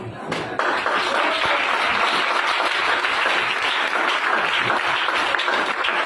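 Loud, sustained applause from a church congregation after a prayer, steady dense clapping filling several seconds at close range.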